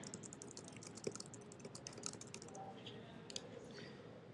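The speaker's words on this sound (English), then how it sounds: "I do have a description, so I'll go ahead and type that here." Steady typing on a computer keyboard while entering an event description, a quiet run of soft, irregular key clicks heard alone with no talk.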